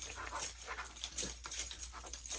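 A dog pants in quick, uneven breaths with small whimpers mixed in, close by and moderately loud, with no talking.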